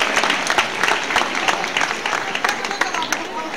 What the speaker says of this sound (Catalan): Bon aplaudiment per la Ruth i pel Sebastià.